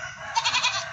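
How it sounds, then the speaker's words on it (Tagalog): Hungry goat giving a short, nasal bleat close by, a quick wavering cry of several pulses against a quiet background. "kawawa na ang kambing natin"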